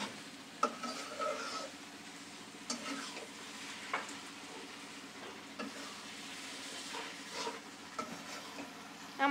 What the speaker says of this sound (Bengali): আমাদের নুডলস ফ্রাই হয়ে এসেছে